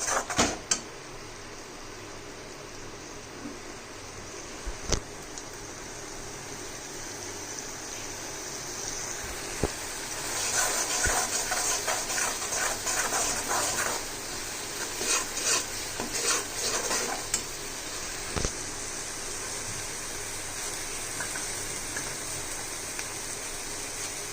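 Food being stirred and mixed in a pan after coriander powder and salt go in, soft repeated scraping and rubbing strokes with a faint sizzle and a few sharp utensil knocks against the pan, close and steady, no speech.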